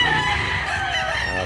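Roosters crow at a chicken market in Consolacion, North Cebu: a loud, drawn-out crow rises close by over low background murmur, filling the short moment.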